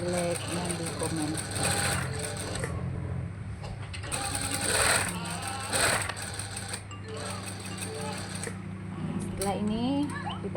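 A sewing machine stitches sleeve cuff pieces in a steady mechanical whir with rhythmic needle clatter, running nearly throughout at close range, with a voice speaking over it in places.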